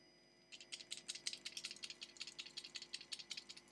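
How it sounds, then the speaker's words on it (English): Brisk, regular rattling of a fishing lure shaken near the mic, starting after a brief pause and continuing in sharp clicky bursts. "And this is the sound of this lure."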